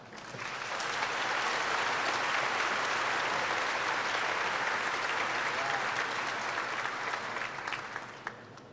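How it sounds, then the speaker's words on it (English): At a 2006 Wadsworth High School commencement, the crowd gives a long, full round of applause as the valedictorian receives a medallion, swelling quickly and holding steady before tapering off, with one late clap. "I would please ask everyone to join me in a round of applause"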